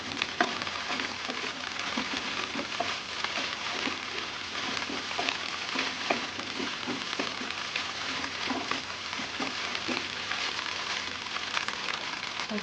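Steady sizzling of Korean-style egg fried rice with green onions frying in a hot pan, with soft scraping and stirring sounds throughout and no voices.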